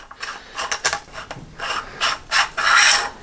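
Clock being screwed into a DC Motive top yoke mount on a Honda CB750 cafe racer, close rasping and ratcheting thread scrapes in short uneven bursts, with no talk.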